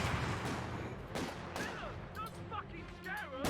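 Vickers machine gun firing in the Company of Heroes strategy game, scattered sharp bursts of fire mixed with other battle noise, moderately loud, with people talking over it.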